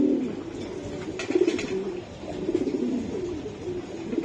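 Racing homing pigeons coo in low, throaty repeated calls, steady and close, with no talking.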